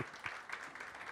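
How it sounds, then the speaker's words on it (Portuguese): Audience at a publishing event applauds the invited guests, a brief, faint patter of clapping heard from a distance at low level. "Eu peço que aplaudam as nossas convidadas"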